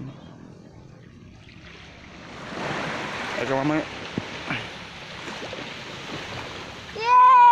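Ocean waves wash onto a beach at Pantai Induk in a soft, continuous rushing swell, with people talking and a voice nearby over the surf.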